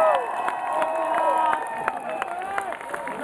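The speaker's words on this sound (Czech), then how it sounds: "Prosím potlesk." A concert crowd at a show in the Fléda club cheers, whoops and whistles loudly. Scattered claps sit underneath, with shouted voices rising and falling.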